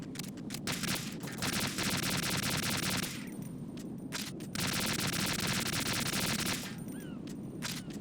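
Bursts of automatic gunfire in Metal Gear Solid 2: Sons of Liberty, two long sustained volleys of rapid shots with short pauses and scattered single shots between them, steady and fairly loud against a constant game background.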